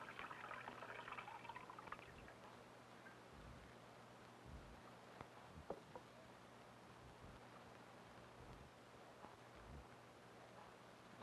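Fresh, warm water poured gently into one corner of a home fish tank holding fantail goldfish above gravel; a faint, steady, continuous trickle with no voices.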